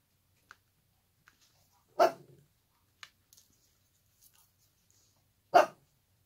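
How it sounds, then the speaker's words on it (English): Two sharp, close dog barks sound several seconds apart, with faint small clicks and noises in between in an otherwise quiet space. "This other dog is barking its fool head off back here."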